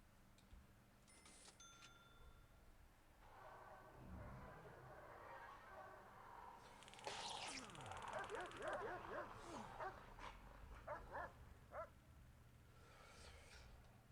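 A guard dog in the prison-building game Prison Architect barks, yips and whimpers amid faint game ambience, with a flurry of excited yelps in the middle.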